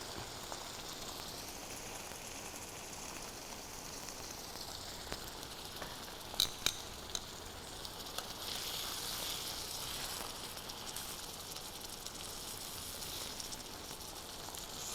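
Chicken sizzles and fries in a pan with tomato sauce for chicken Florentine, a steady, even crackling hiss with a few sharper pops near the middle.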